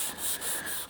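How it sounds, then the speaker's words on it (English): Block sanding primer on a car body panel to level a low spot, a close, soft rhythmic scrubbing with repeated back-and-forth strokes and no talk. "we're sanding down the primer around that low spot until we level it out"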